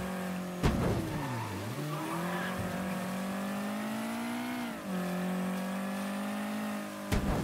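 An untuned car engine in the video game Mafia 3 drones and revs, its pitch dipping and rising as it shifts, with tire squeal and a couple of sharp clicks; no voices.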